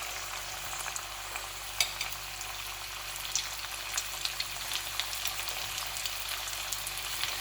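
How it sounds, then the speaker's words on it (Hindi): Flour-coated chicken pieces fry in hot oil for honey chilli chicken, giving a continuous, even crackling sizzle with scattered small pops and spits throughout, no voices. "अब मैं चिकन को ऑयल में डाल दूंगी इसको फ्राई करने के लिए"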